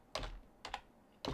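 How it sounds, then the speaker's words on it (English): Three crisp key taps on a new wireless computer keyboard, evenly spaced and quiet, recorded up close in a calm room. "Y'all seen the new keyboard? Wireless."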